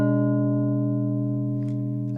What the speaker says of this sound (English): The wide triad sounds like this.